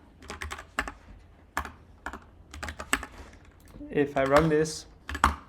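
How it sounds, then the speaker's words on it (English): Typing on a computer keyboard while running a BQN terminal program, with bursts of quiet close clicks and keystrokes, and someone briefly speaking near the end. "if I start typing, then each time it's going to add what I type to it, and then print it out"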